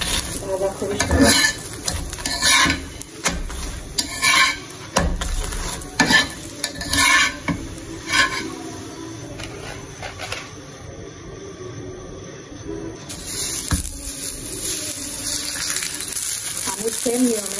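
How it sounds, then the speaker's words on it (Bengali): A paratha frying in a hot pan gives a close sizzle broken by uneven bursts of scraping and spatula movement, quieter in the middle and louder again toward the end. "আমি সেম নিয়মে সব পরোটাগুলো এভাবে ভেজে নিই"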